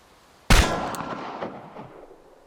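A single loud gunshot fired at a target on a shooting range in the game Chernobylite, a sharp crack with a long reverberant tail fading over two seconds, no talk.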